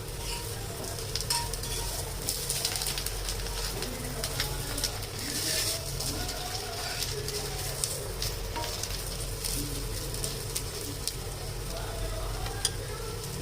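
Leftover rice cutlets shallow-frying in oil in a pan, a continuous close crackling sizzle with light scrapes and taps as they are turned over, over a low background hum.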